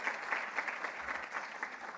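Audience applauding for a queen at a women's finance and insurance summit, steady dense clapping from a large crowd filling the whole moment without a break.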